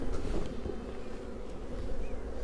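Honey bees buzzing steadily around open beehive frames during a hive inspection, a dense continuous hum close to the microphone with no pauses.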